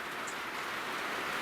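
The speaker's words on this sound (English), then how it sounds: "it's pissing rain right now" Heavy rain falling outside a tiny house: a dense, steady hiss of downpour, continuous and even, with no voices.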